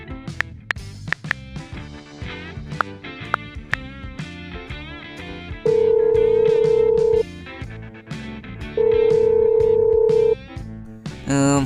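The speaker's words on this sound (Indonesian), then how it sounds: "Oke, kalau begitu saya telepon dulu ya." A telephone tone sounds in two long steady bursts, each about a second and a half, over an underlying bed of music with a short, sharper tone near the end.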